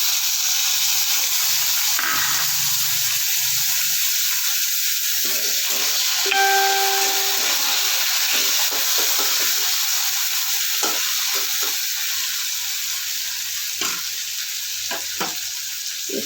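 Tomato and sugar go into a pan of frying tilapia curry, setting off a continuous loud sizzle with scraping stir strokes and a brief thin whistling tone partway through.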